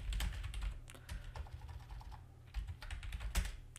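Quick, uneven keystrokes tapping on a computer keyboard, close and fairly quiet, in short bursts with brief gaps while working in PowerPoint.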